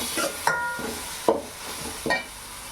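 Tomatoes sauté in a pan for crab gravy as a spatula scrapes the metal surface in four distinct strokes, each a short clatter over a gentle continuous sizzle.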